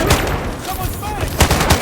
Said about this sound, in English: Someone's firing!